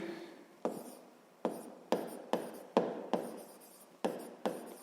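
Pen strokes scratch across paper in short, separate bursts, about ten of them in under five seconds, close and quiet, with no talk.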